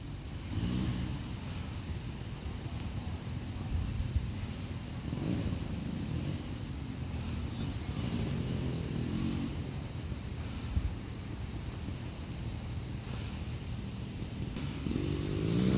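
A Honda CR500R dirt bike powers up a sand hill during holeshot practice for an uphill sand drag, its engine a steady, loud, continuous roar throughout with no voices.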